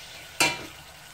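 Tuna dry-frying in a pan gives a single sudden sizzling hiss that flares loudly and then fades over a fraction of a second, with no voices.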